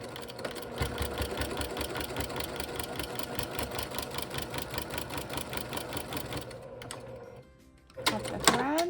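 A sewing machine back stitches through a quilted car seat poncho with a rapid steady mechanical chatter for several seconds, then stops, followed by a brief handling rustle.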